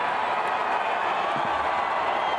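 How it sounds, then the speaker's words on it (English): Raucous stadium crowd roaring at a 3000 metres steeplechase final in Doha, a dense, steady wall of cheering and shouting that holds loud and unbroken throughout. "What a roar from the crowd"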